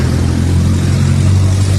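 A Musstang ADV Challenge 250 motorcycle's small carbureted single engine idles loudly up close, a steady low rumbling drone with no voices.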